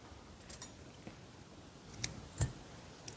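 Scissors snip crochet yarn in a few quiet, separate clicks with short pauses between them, close by and with no talk.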